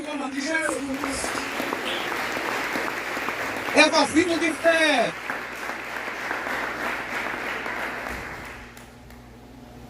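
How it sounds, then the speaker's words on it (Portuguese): A church congregation at a Sunday family service claps steadily for several seconds beneath a preacher's amplified voice, the applause thinning and fading out toward the end. "Aplauda Ele em nome de Jesus."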